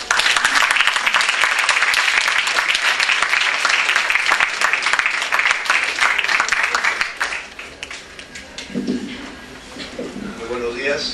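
A lecture audience at an engineering ceremony breaks into loud, sustained applause with many hands clapping at once, then thins into scattered claps before a few voices come in near the end.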